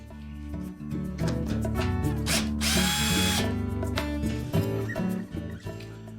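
A power drill backs out the ground screw during an evaporator fan motor replacement in a Frigidaire refrigerator, giving a short, close whirring burst with no talk.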